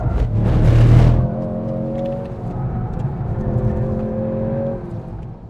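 A Mercedes C63 AMG engine revs in race mode, opening with a loud, close burst before dropping to a sustained whirring drone as the car accelerates on the road.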